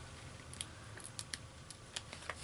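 Scissors snipping a small edge piece of adhesive dimensionals for a paper craft project, several faint, sharp close-up snips spaced irregularly over a soft background hiss.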